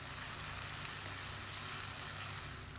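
Ginger garlic paste with green chillies sautéing in hot oil for broccoli rice, giving a steady, close, continuous sizzle and hiss with no talking over it.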